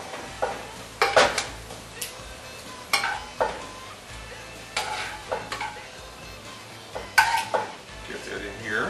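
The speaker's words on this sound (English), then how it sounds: "I'm just going to transfer now the meat to the vegetables over here" Ground chili meat is scooped with a slotted spoon from a pan into vegetables, making intermittent metallic scrapes and clanks over a faint sizzle, with someone talking between the scoops.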